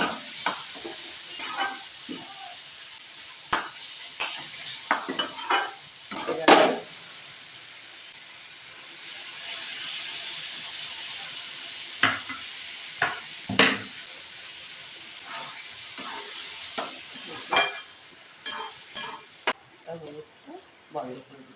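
Onions fry in a pan for a Bengali kosha mangsho, a steady soft sizzle broken by repeated scraping stirs of a spatula, with scattered clinks and a voice speaking over parts of it.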